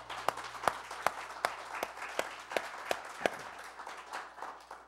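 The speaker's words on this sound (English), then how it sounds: "let's give the Lord a hand clap for that" A church congregation during a Sunday service claps hands together in a roughly steady rhythmic beat, sharp individual claps standing out over a softer spread of clapping, moderately distant.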